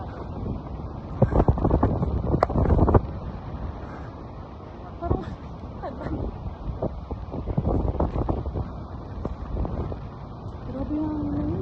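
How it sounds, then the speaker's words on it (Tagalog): Strong, gusty wind buffets the microphone on a high suspension bridge over the mountains of Sadanga, Mountain Province, with rumbling bursts and voices talking throughout. "Grabe yung hangin na yun"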